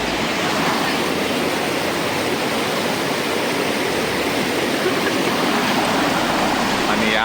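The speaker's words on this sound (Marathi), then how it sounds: "पाण्याचा आवाज एकदम मस्त येतो." The Dodhani waterfall and its stream near Panvel, swollen by the monsoon, give a loud, steady broadband rush of falling and flowing water with no pauses.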